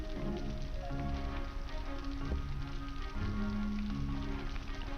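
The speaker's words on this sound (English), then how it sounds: "Spray the shower at me." Virtual shower spraying water over a pet in the PlayStation Vita Pets game, a steady hissing spray running continuously under layered game music, with no talk.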